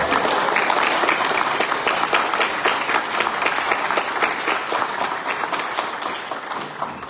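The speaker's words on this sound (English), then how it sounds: "Clap your hands." Seminar audience at a Corvus Belli GenCon 2025 event clapping hands in a dense, loud, sustained round of applause that slowly tapers.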